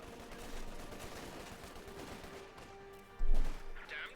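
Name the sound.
Bren gun fire in Company of Heroes 2 video game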